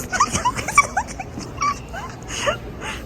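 A dog whimpering and yipping indoors, a string of short high-pitched whines and yelps spaced unevenly over a few seconds, fairly close with a quiet room behind.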